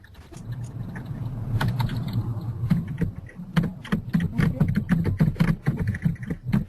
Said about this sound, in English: somebody's typing and we can't hear